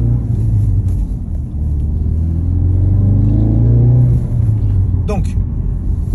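A car engine rumbles loud and close under load, its pitch climbing through quick gear changes on a closed road, with a sharp shift near the end and a person talking over it.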